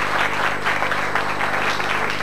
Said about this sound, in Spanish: El aplauso para Paola Rodríguez